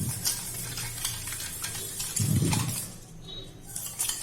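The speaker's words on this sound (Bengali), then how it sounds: "সুন্দর করে মিশিয়ে নিচ্ছি আমি" A spoon stirs chopped onion and green chili into a sattu drink, giving soft clinks and swishes against the glass with one brief fuller scrape midway, all fairly faint.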